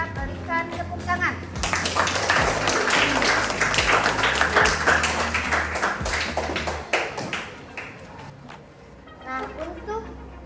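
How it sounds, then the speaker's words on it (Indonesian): A class of students applauds during a school lesson, with a brief voice at the start, several seconds of close, dense clapping that fades, then speech resumes. "Mari kita berikan tepuk tangan."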